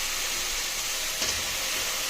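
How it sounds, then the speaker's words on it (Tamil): Brinjal pieces sautéing with tomato in a hot pan, giving a steady, even sizzle and hiss throughout with a faint clink partway through. "இப்போ தக்காளி வதங்கணும்னா கத்திரிக்காவை போட்டு வதக்கிடலாம்."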